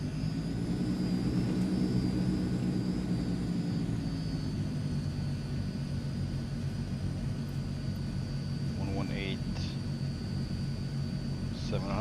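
A Transall C160 twin-turboprop military cargo plane in a flight simulator taxis out, its propellers droning in a loud, steady hum that shifts slightly in pitch, with a few brief tonal chirps near the end.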